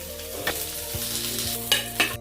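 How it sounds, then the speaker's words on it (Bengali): Eggs lightly frying in a pan for an egg curry, with a soft steady sizzle broken by a few clinks of a spatula turning them, close and alone with no voices. "ডিম খুব বেশি ভাজলে হবে না, আমি যেভাবে ভাজলাম সেভাবে আপনারাও ভেজে নেবেন।"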